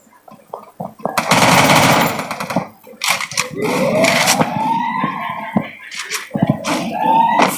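Gunfire in a shooting video game: bursts of rapid automatic fire separated by short gaps, crisp and close, mixed with other game effects such as whooshes and rising tones, with no talking.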